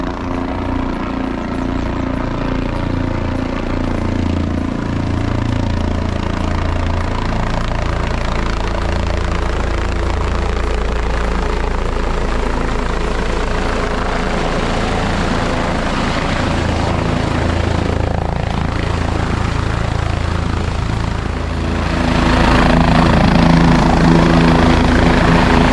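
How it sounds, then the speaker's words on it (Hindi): Helicopter arriving at the Kedarnath shrine helipad in the early morning, a steady loud rotor and engine roar lasting throughout, swelling slightly louder near the end as it comes closer. "आज के दिन का पहला हेलीकॉप्टर आ रहा है।"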